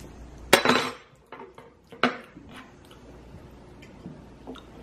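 A spoon scrapes food in a dish, giving a few close, short clinks and scrapes spaced apart with quiet gaps between them.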